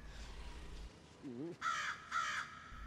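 A crow caws twice, loud and close, in a Hindi-dubbed action film scene, following a low wavering sound, with no speech over it.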